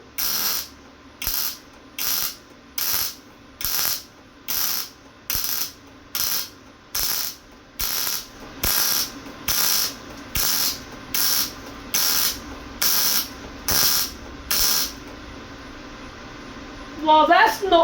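Welding with a Lincoln welder makes a steady series of about sixteen short, evenly spaced crackling bursts, close and fairly loud, separated by brief pauses.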